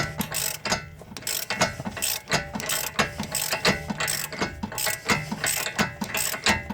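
A ratchet wrench turns during front wheel bearing replacement on a 2013 Hyundai Sonata, giving close, rapid bursts of metallic clicking in an uneven, repeated rhythm with no talk.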